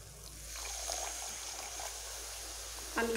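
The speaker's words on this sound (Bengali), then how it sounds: "এবার আমি এখানে কিছুটা জল অ্যাড করব।" Water is poured into a pan of sautéed cooking spice paste, a steady soft trickling wash lasting a few seconds, close and moderately quiet, ending with a brief clatter.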